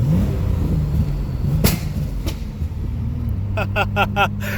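Pontiac Grand Prix engine with anti-lag revving loudly at a full-throttle, full-clutch launch, a continuous close roar, with a rapid series of sharp pops or bangs near the end.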